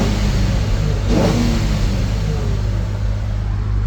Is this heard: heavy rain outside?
no